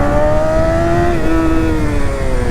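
BMW S1000RR sportbike fitted with an aggressive Akrapovič exhaust, revving loud and close, its pitch holding steady and then dipping slightly before settling into a continuous engine drone.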